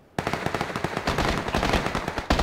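Rapid automatic gunfire in PUBG, the battle royale shooter: a dense, loud burst of closely spaced shots running almost continuously, with a brief gap near the end before firing resumes.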